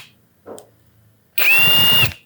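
A Mollar CIW 21500 impact wrench runs at its first speed for a short, loud burst of steady motor whine, up close after a brief faint knock.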